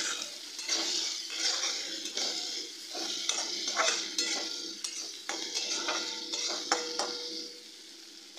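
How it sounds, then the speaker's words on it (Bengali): Chopped onion fries in oil with whole cumin and dried red chilli for a green banana and prawn curry. A bright sizzle carries throughout under repeated metal scrapes and clinks of stirring in the pan, with no talking. "পেঁয়াজটা ভাজা হয়ে গেছে।"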